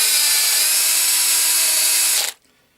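A loud, steady power drill whine, a bit cleaning carbon out of holes in steel, runs continuously for about two seconds, then cuts off abruptly into near silence.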